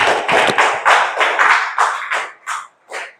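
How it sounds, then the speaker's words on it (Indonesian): A classroom full of students claps together for a final group, loud bursts of close clapping that break into a few separate rounds and then fade out. "Tepuk tangan untuk kelompok terakhir."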